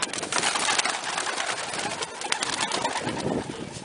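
Pigeons released from their loft coo and flutter close by, soft throaty calls repeating over a busy rustle of wings and movement.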